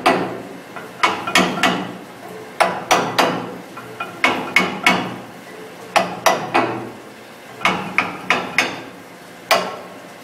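A steel hammer strikes repeatedly while a bearing is removed from a cooling tower, sharp metallic blows arriving in quick bursts of two to four with short pauses between, loud and close.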